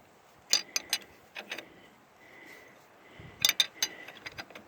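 A drop angle wrench working on the bolts of a Fordson Major tractor gives sharp metallic clicks and ratcheting clinks in two quick clusters, close by with quiet gaps between.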